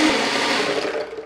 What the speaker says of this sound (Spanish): como que lloró la licuadora